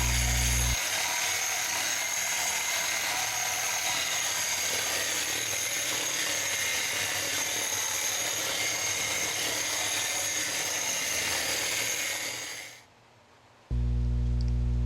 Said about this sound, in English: we're using a wet dry grinder with a diamond bit grinding tool that goes with our wet dry grinder